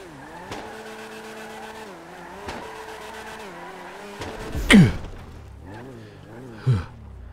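A Spoon Edition Honda Civic EG6 with a K20 engine races in GTA 5, its engine droning and shifting steadily before a sharp tire screech cuts in near the middle, followed by a shorter squeal.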